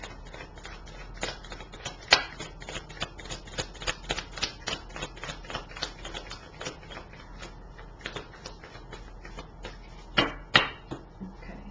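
Soft riffling and snapping of tarot cards being shuffled repeatedly, irregular crisp flicks and taps close by, fairly quiet with no talking.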